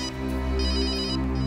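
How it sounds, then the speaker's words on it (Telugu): A mobile phone rings in a short, steady burst of bright electronic ringtone, loud and close, during a crime-drama scene with no voices. "Joseph phone."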